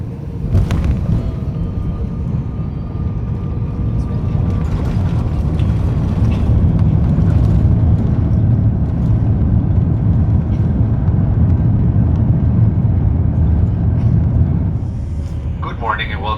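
Inside the cabin of a Delta airliner landing and taxiing at Melbourne, a loud, steady low engine and airflow roar holds throughout with a few bumps and clunks, and a voice speaks over it.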